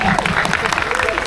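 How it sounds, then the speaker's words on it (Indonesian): Applause from a cinema audience at a film premiere event, a steady, dense clapping wash under a speaking voice, filling the short moment. "tolong Tepuk tangan dong"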